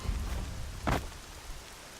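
Rain pouring in the video game Horizon Zero Dawn, a broad constant hiss with one brief louder rushing burst near the middle.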